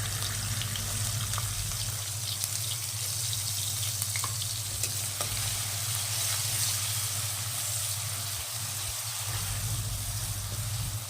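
Onion sautéing in hot oil with cumin and asafoetida, a steady close sizzle and crackle running continuously without talk.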